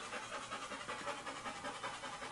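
Rapid, steady breathy panting from a dog, close up but quiet, an even rhythm of huffs throughout.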